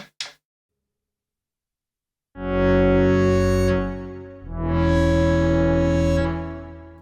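After a short click and a pause, a distorted Novation Peak synthesizer with reverb sounds two long sustained notes with a reverberant tail trailing off at the end.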